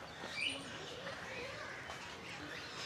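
A single brief bird chirp rises out of steady ambient hubbub beside the parrot and cockatoo cages in a zoo aviary at Kankaria, Ahmedabad.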